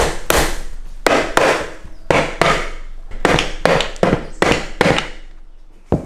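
Sharp hammer taps on a part from a Mazda 121 engine during an engine swap, about a dozen loud close metallic knocks in an irregular rhythm, with no talk.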